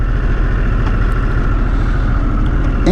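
A 2021 Harley-Davidson Sportster S fitted with mid controls rides along, its engine a loud, steady low rumble blended with constant wind rush over the microphone.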